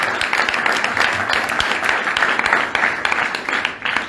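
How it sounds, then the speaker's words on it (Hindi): Audience applause at a college and ashram gathering in Lagma, Darbhanga, Bihar, honouring a former senior student: steady, dense clapping from a crowd, moderately loud and continuous throughout with no voices over it. "जोरदार तालियों से स्वागत किया जाए।"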